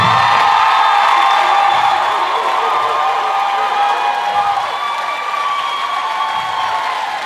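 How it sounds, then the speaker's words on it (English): An audience gives a sustained round of applause with cheering and whoops, a loud, dense crowd wash that gradually eases. "could you give our MD a round of applause?"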